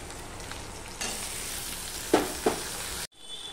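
Small chopped tomato added to browned onion sizzles in hot oil for a hilsa fish curry. A steady frying hiss is broken by two short utensil clatters before an abrupt stop.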